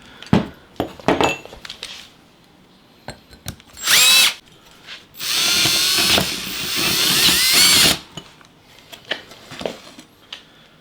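A power drill cuts holes with a 1.5 inch hole saw, with two long, loud bursts of high whining, grinding cutting between short drill blips and metallic clinks and taps.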